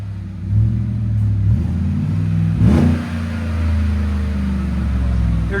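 Close, loud exhaust note from a 2018 Chevy Tahoe 6.2L V8 with an 18-inch Magnaflow muffler, rumbling at idle before a quick throttle blip rises and falls back to a steady deep burble.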